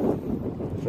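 Strong wind gusts across an open vegetable farm field, buffeting the microphone in a loud, low rumble for a moment.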